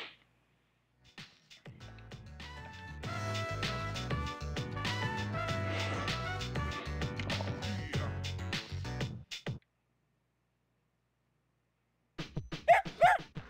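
Dog barking in the game Persona 3 Portable, over busy in-game music that fills most of the clip, followed by a short burst of sharp yips after a pause.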